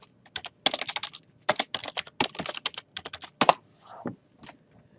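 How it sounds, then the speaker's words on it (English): Someone types on a computer keyboard at close range, with irregular bursts of crisp key clicks and short pauses between words and no speech over them. "I just type pine tree in here"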